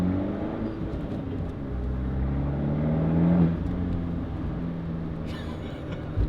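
An Abarth 124 Spider engine rumbles low and steady through a Monza exhaust, swelling into a brief rev midway, heard close with no talking.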